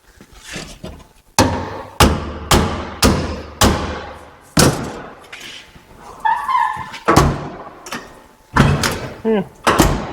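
A 1957 Chevy car door, under metal repair with an adjustment problem at the striker, closes repeatedly: about a dozen solid, close-up thuds and slams in an uneven rhythm, with brief speech in between.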